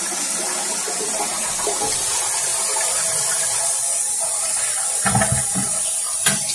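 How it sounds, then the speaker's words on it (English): A freshly reinstalled toilet, bolted to the floor and newly reconnected, flushes with a steady rush of water that runs throughout, ending in a couple of louder gurgling surges near the end. "Here, let's flush again."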